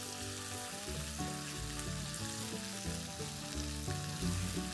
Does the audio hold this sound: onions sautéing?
yes